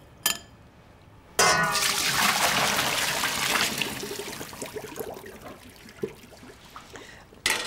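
Cooked pasta water poured off and draining through a colander in a kitchen, a loud rushing gush that starts abruptly and slowly tapers into trickling, close up with no talking.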